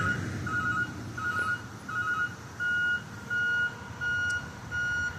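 A truck with a hydraulic mechanism picks up a skid at the curb, its steady repeating reversing beeps sounding over a low diesel engine rumble, moderately close with no talk.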